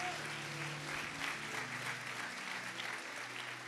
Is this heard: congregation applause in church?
yes